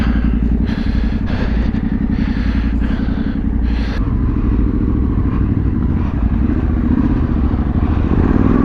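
Yamaha T7 motorcycle pulling hard up a hill climb in second gear, its engine a loud, steady, close drone that holds through the whole stretch.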